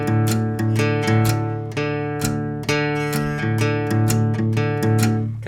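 A heavy, low drop D guitar riff played in tight, chugging palm-muted bursts with a swinging rhythm, loud and close.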